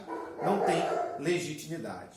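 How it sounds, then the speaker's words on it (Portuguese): A dog barks a few times in the background, muffled and fairly distant beneath a man's lecture-style talking, which runs through the clip. "Se vocês ouvirem uns latidos ao fundo"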